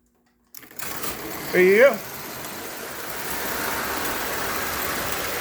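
An American Flyer toy locomotive with small wheels runs fast on its track, a steady close whirring motor hum after a brief rising whine, while someone says a few words.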